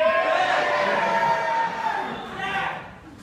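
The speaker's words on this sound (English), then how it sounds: "Can you lot cheer?" A live audience at Thorpe Park theme park cheers together, a loud sustained wash of many voices and whoops lasting the whole moment, swelling again near the end.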